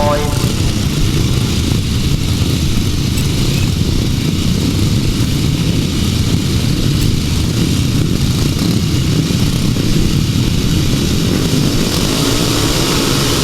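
Grasstrack motorcycles in the 375 class pulling away at the start of a race, a loud continuous roar of several engines blended together, steady throughout, with an announcer talking over it.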